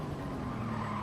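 A race car in a sim racing game brakes hard with a steady tire squeal and engine drone, a brief continuous skid at moderate level with no voices.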